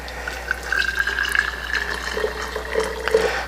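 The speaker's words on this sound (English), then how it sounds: "I'm just going to pour some boiling water in here." Boiling water poured into a jar, a close trickling, gurgling stream with a rising fill tone and uneven splashes over a few seconds.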